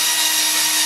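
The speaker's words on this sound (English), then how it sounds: "And I'm driving them at an angle because they're too long for the two boards." A power drill driving long screws at an angle into two wooden boards of a sculpture armature, a loud, steady high whine held without a break, close and alone.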